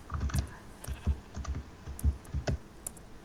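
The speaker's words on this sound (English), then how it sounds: "Typing slow again." Slow, uneven typing on a computer keyboard during a Minecraft session, with separate close keystrokes and short pauses between them, heard on its own.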